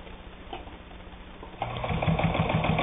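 A Necchi Supernova Ultra, an Italian-made sewing machine, hums softly, then speeds up into a steady rapid stitching rhythm as it sews through two layers of leather, close and alone.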